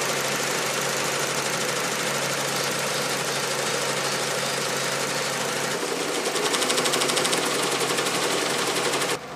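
Ricoma embroidery machine stitching patches, a steady loud mechanical whir with rapid needle clatter running throughout, growing slightly louder and busier near the end before cutting off.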